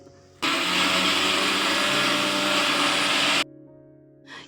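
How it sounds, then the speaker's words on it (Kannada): A kitchen mixer grinder whirs through a spice mix of coriander powder, chilli powder and salt in one loud, even burst of about three seconds, then cuts off abruptly to a quiet room. "ಇಷ್ಟನ್ನು ಇವಾಗ ಮಿಕ್ಸಿ ಮಾಡಿ ಸೈಡಿಗೆ ಎತ್ತಿಟ್ಕೊಂಡಿದ್ದೀನಿ"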